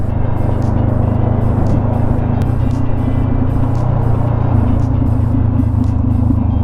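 Honda CBR500R motorcycle engine pulling in first gear on a mountain road trip, a steady loud droning rumble with constant low-pitched drive and wind noise throughout, no voices.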